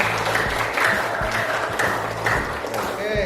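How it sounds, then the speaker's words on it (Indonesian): Classroom applause from students after a post-test, steady clapping throughout the short stretch, moderately loud with some voices mixed in. "Tepuk tangan untuk semua."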